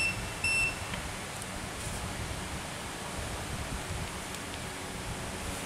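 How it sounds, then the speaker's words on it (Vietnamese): Fukuda EK-469GJ self-leveling laser level sounding its tilt alarm: a brief, faint high-pitched beep near the start, then only a steady quiet hiss. "Mà nghiêng cao quá máy sẽ báo và tắt laser."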